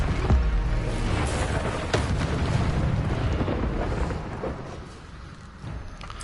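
Incendio fire spells cast in the Hogwarts Legacy game, a dense roaring, crackling blast with booming bursts that stays loud throughout before easing slightly toward the end.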